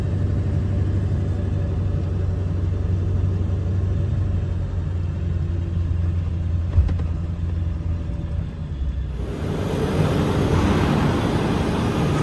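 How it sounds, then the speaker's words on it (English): A loaded truck rolls across weigh scales on a job hauling debris and sheetrock, its engine rumbling steadily up close with a low drone, then a louder, broader rush of noise swells near the end. "I'm gonna drive across the scales."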